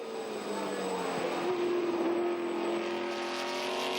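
Ford GT40 race cars in a two-driver endurance race, engines droning and shifting pitch as they pass at moderate distance, a steady mechanical roar without speech.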